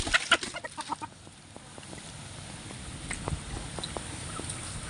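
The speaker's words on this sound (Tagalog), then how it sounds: "ito na po yung ating manok" A sick chicken clucks in short bursts at close range, with faint rustling and handling noise around it.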